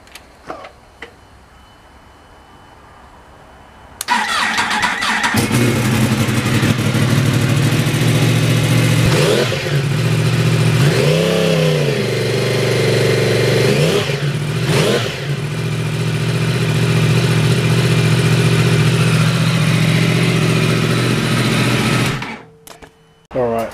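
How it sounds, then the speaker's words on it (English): A 2016 Yamaha YZF R1 with a decat link pipe and Akrapovic slip-on exhaust starts up and idles loudly and close, with several sharp throttle blips rising and falling before the engine cuts off near the end. "So I'll let the bike warm up and I'll give you a listen to what it sounds like."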